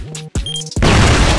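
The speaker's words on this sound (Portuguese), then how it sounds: "Flash." Short electronic game tones give way to the sharp, loud crash of a flash grenade detonating in a video game, followed by a sustained noisy wash.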